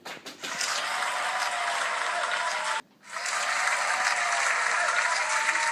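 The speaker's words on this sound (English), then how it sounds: "Can you have a round of applause," A studio audience claps a full round of applause for a guest on an interview show, broad steady clapping that breaks off briefly midway and then resumes just as strong.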